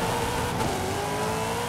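A race car accelerating in Forza Horizon 5 gives a steady, sustained engine drone with a slowly rising tone, held at an even level throughout.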